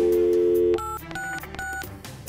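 A steady tone, then about three short two-pitch keypad beeps as a telephone dials 911, clear and close with no talking.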